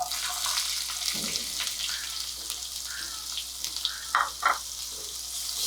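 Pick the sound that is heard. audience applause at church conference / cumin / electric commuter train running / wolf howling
cumin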